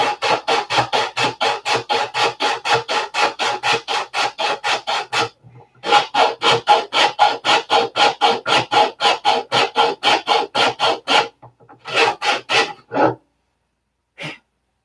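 Hand sanding of a cowl with sandpaper on a handled back plate: rapid, rhythmic rasping back-and-forth strokes, close and loud, in long steady runs broken by brief pauses.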